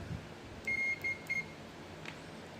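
Three short electronic beeps from a multimeter continuity buzzer in quick succession, a steady high tone, followed by a faint click over low background hum, while testing house wiring.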